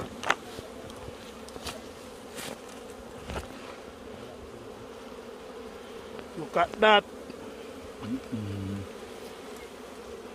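Bees buzzing around a wild nest during a bee hunt in the hills of Jamaica, a continuous hum close by, with people talking briefly and a few sharp knocks and clatters.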